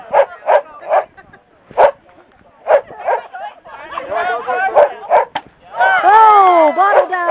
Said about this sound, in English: barking greyhound